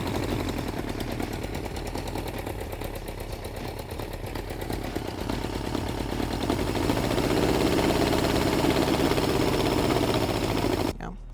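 A vintage Honda or Suzuki motorcycle engine runs after carburetor repair, a steady close putter that grows slightly louder and rougher near the end before an abrupt click.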